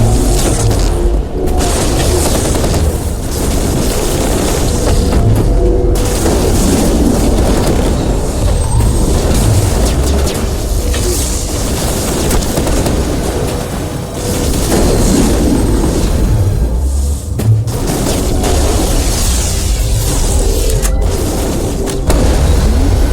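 Heavy gunfire and booming explosions roll on continuously in the sci-fi shooter Mass Effect, loud and dense, with low rumbling blasts and sharp cracks over a constant battle din.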